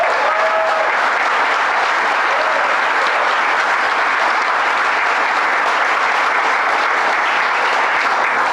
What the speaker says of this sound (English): Let's give Mike Hine a big round of applause